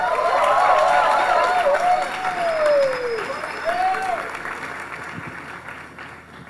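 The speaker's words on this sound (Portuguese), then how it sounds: "levanta uma salva de palmas para a nossa pregadora de hoje, Fernanda." A church crowd applauds a preacher at an evening service, steady clapping and crowd noise lasting several seconds while a voice talks over it, fading toward the end.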